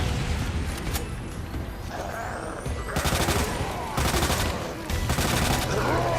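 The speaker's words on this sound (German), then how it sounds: "Ich möchte hier definitiv mit dem Maschinengewehr weiterschießen." A machine gun fires in the Resident Evil 2 video game, loud rapid bursts in several separate volleys with brief pauses, over low rumbling game background and no speech.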